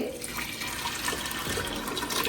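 Water poured into an Instant Pot holding lentils, a steady splashing and trickling that runs without a break, close by and moderately quiet.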